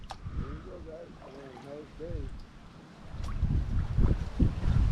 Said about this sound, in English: You could definitely still feel the wind in here, even though you're inside the mangrove trail.